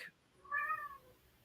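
A single short house cat meow rises clearly out of a quiet room, close by and alone, with a faint noise just before it.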